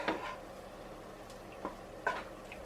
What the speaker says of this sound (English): We're going to go ahead and add the pasta in the sauce.